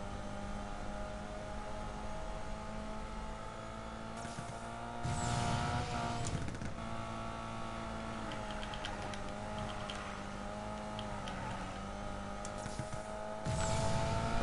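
Race car engine droning steadily in Need for Speed Payback during a race, with bursts of louder acceleration and tire noise, no talk over it.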